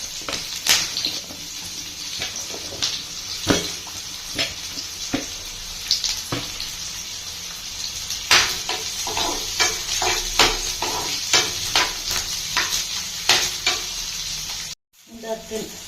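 Onions fry in a pan for a mushroom pepper fry, a close sizzling hiss punctuated by repeated sharp scrapes and clinks of stirring, with a short silent gap near the end.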